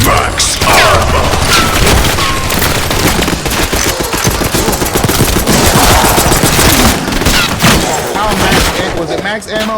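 Sustained heavy gunfire in a zombie video game, continuous automatic bursts and booming impacts filling the whole stretch, loud and dense.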